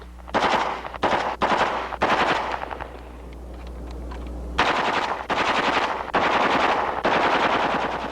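A Heckler & Koch machine gun fires in long, loud sustained bursts at a 1970s firepower demonstration, about six bursts separated by brief pauses, with a quieter gap mid-clip where distant shots and echoes continue.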